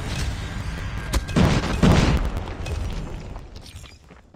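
A grenade goes off in the mobile shooter Call of Duty: Mobile on a hardpoint match, two heavy booming blasts close together, then a rumbling tail that fades out.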